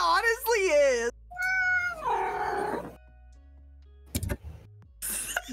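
A pet cat meows several times up close, drawn-out wavering cries separated by short pauses, with a person's voice mixed among them.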